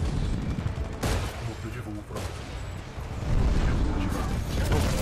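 Rapid gunfire crackles in Titanfall 2 combat, dense bursts and sharp shots layered over a loud, busy battle din that swells toward the end.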